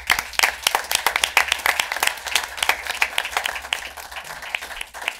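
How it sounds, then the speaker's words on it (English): Audience members at a city council meeting give a round of applause, a moderately loud patter of individual claps from a modest crowd, fading slightly near the end. "way worthy of a round of applause"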